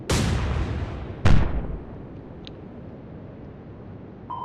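A warship's naval gun fires in the Atlantic Fleet game, two heavy booming shots about a second apart, each with a rolling tail that fades into low rumble, followed by faint interface tones.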